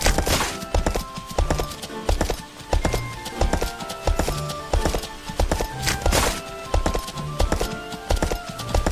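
Horse hooves clip-clop steadily in the video game Kingdoms, a loud, regular trotting rhythm carried throughout with occasional wooden knocks and no talking.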